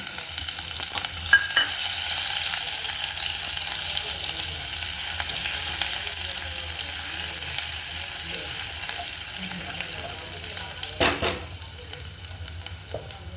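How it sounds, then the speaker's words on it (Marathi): Cumin seeds and ginger-garlic paste fry in a pan for a chicken curry, giving a steady close sizzle with soft stirring scrapes and a brief louder clatter near the end; no one speaks. "आता आपण टाकतो जिरं, आलं लसूण पेस्ट थोडीशी"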